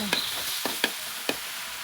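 Beef stir-fried in a pan with oyster sauce, sugar, seasoning sauce and fish sauce, a continuous close sizzle broken by a few sharp scraping strokes of the spatula, no voices.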